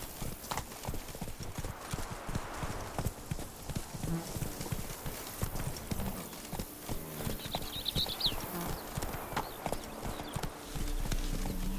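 Horse hooves clip-clop at a steady walking pace in The Witcher 3 video game, soft and even over a low ambient background, with a faint whinny-like sound in the mix.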